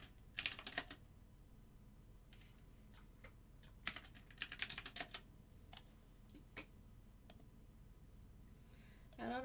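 Bursts of clicky computer keyboard typing during live algorithmic trading on NinjaTrader, quiet and close, in short irregular clusters separated by pauses over a low background hum.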